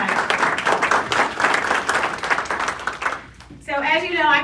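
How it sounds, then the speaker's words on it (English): Audience applause at a community meeting on policing, a dense wash of clapping for about three seconds, then fading as a voice begins speaking over the tail. "So give yourselves a round of applause."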